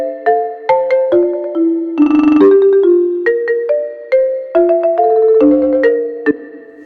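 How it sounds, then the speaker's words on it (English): Marimba phrase of bright mallet notes in a steady melodic rhythm, washed in a bright, shiny Quantec room simulator reverb with long shimmering tails; a brief denser flurry near the middle, no voices. "I'm going to come back to my original marimba part, and I'm going to create a brand new reverb treatment for it"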